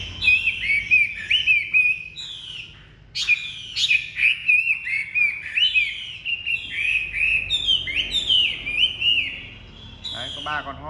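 Several hwamei songbirds singing at close range, loud rapid whistled phrases overlapping almost continuously, with brief pauses between bursts.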